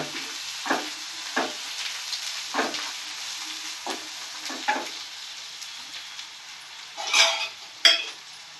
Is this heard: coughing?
no